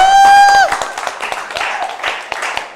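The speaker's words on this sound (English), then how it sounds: "Let's give them another round of applause." A loud, high whoop opens a short round of applause for a team at an AI masterclass, followed by scattered nearby claps under a lively room murmur.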